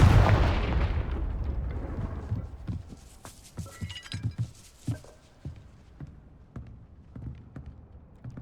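Confringo blasting spell in the Hogwarts Legacy game, a loud explosive burst that fades into scattered debris thuds, clinks and small impacts over several seconds, with no talk.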